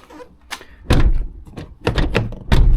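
The door of an AWD Sprinter van is swung shut, giving several solid metallic thunks and a latch clunk at close range over light outdoor background noise.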